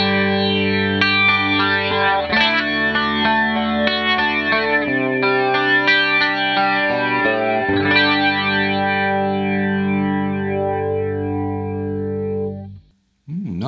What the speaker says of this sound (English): we've got a slow 80s style flange, let's give that a go.